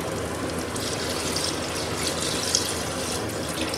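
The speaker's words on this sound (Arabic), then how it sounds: "توا باش نصب شوية ماء" A little water poured into a cooking pot of frying chicken, a steady splashing, gurgling stream heard close and continuous without speech.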